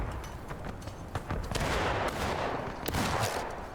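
Scattered gunfire crackles through a multiplayer battle event set in the Blue and the Grey era, with sharp irregular shots over a dense, steady din of distant fire.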